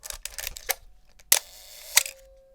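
Canon FTb film camera shutter fired at a half-second speed: several sharp mechanical clicks close up, with the shutter's opening and closing snaps about half a second apart, separate from the other clicks and alone without talk.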